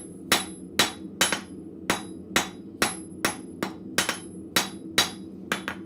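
Hammer blows ring out on an anvil as a blacksmith curls hot steel into a scroll, about a dozen sharp metallic strikes in a steady, slightly uneven rhythm, close and loud with no talk.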